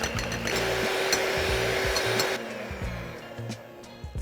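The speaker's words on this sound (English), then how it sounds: "I'm just going to use a hand mixer" A hand mixer whisks egg whites toward soft peaks for meringue ghosts, giving a steady motorized whir that drops in pitch and loudness partway through.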